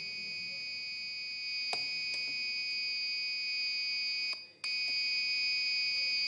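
Electronic quiz contestant buzzer at a school quiz final, a loud continuous high-pitched tone with sharp clicks as buzzers are pressed, briefly cutting out near the end before resuming.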